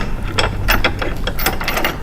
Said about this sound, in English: we're going to take our bolt and attach it to each channel nut